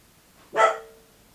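A single sharp dog bark sounds once at close range, loud and brief with a short fading tail, against a quiet room.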